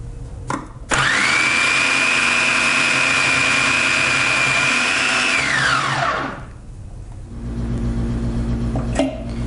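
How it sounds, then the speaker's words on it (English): A food processor shreds sliced cabbage fed through its feed tube, a loud steady motor whine that holds for about five seconds, then winds down, leaving a low rumble and a final clunk. "So let's shred the cabbage."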